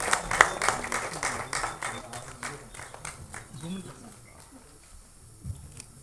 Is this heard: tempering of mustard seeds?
no